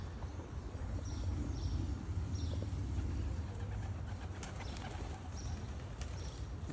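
Young racing pigeons in a loft, soft cooing and the odd flutter over a constant low rumbling background, fairly faint and continuous throughout.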